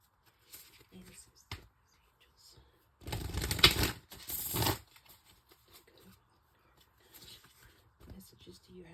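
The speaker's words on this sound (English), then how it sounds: "If you have headphones on, just warning you, I will be shuffling some cards" A deck of cards being shuffled close by, with a loud riffling burst lasting about two seconds, surrounded by soft handling noises and quiet stretches.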